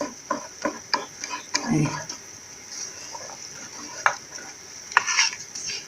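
A fenugreek mixture boils in a pot, with bubbling sizzle and scattered ticks and scrapes of stirring, close and moderately loud, and a brief word spoken partway through.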